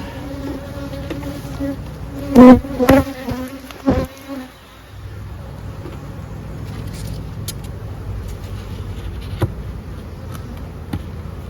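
Honeybees buzz steadily around an open beehive during single brood chamber management as a queen excluder is fitted, with several loud wooden knocks and clunks from hive parts early on before the hum settles to a lower, even drone.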